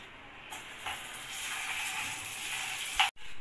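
Butter sizzling and frying in caramelizing sugar while it is stirred, a steady close hiss with faint scraping that holds for a few seconds before cutting off sharply.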